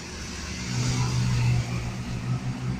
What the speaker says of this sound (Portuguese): Ó, o carro, os carros.